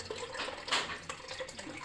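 Water is poured for a thirsty dog, a soft continuous splashing trickle with small bursts of splatter, fairly faint and steady.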